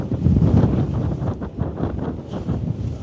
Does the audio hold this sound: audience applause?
no